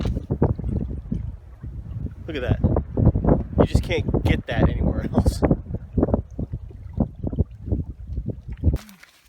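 Gusty wind buffets the microphone in low, rumbling bursts at a campsite on the Superior Hiking Trail in fall while someone talks over it, the blustery noise continuing throughout.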